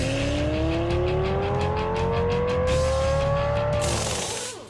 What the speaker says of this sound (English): the Nevada desert and the surrounding hills roared with the sounds of screaming engines